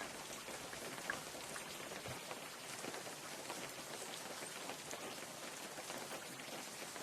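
Steady, dense rainfall in the video game Unturned hisses without pause, an even wash of drops with no voices or other sounds rising above it.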